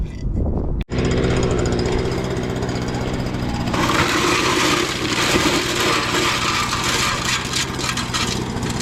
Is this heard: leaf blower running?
yes